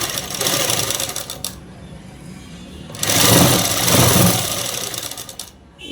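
Sewing machine stitching a child's frock, two loud bursts of rapid needle chatter separated by a quieter pause, close and alone.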